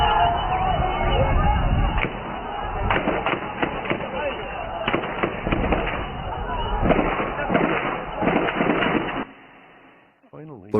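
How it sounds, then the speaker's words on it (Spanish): Repeated sharp cracks of gunfire, some in quick bursts, ring out over a noisy crowd with shouting voices, then fade near the end. "Escuchamos disparos"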